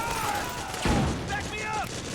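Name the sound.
suppressing gunfire in the video game Metal Gear Solid 4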